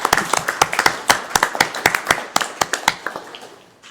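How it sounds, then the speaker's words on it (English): Sparse, distinct hand claps from a small group at a school board meeting, close and crisp, gradually thinning out and fading over a few seconds. "So we want to give them a round of applause here."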